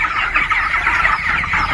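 Twenty-day-old broiler chickens on a poultry farm cluck in a dense, steady chorus close by, with no talking over them.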